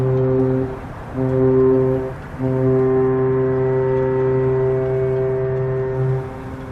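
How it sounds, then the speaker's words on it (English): The P&O cruise ship Arcadia sounds its deep, loud horn in port at Southampton, three long blasts with short gaps, the final blast sustained and booming. "Arcadia's hooting the horns."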